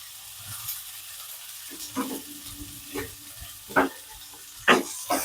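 Pomfret fish slid one at a time into mustard oil over a low gas flame, a soft steady sizzle with a few sharper spatters and scraping touches, fairly quiet, no voices.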